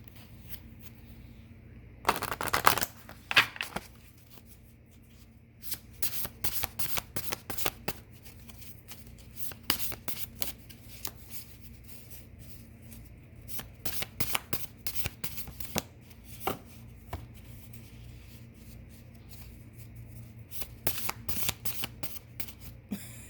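Self-care oracle cards are shuffled by hand in bursts of quick, crisp riffling and flicking, with pauses between rounds; the sound is close and moderately quiet.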